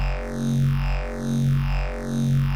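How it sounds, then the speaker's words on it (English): A buzzy, distorted square-wave synth tone with a barber pole phaser effect that seems to glide endlessly downward, repeating in steady waves. "my primary source of movement was this effect, barber pole."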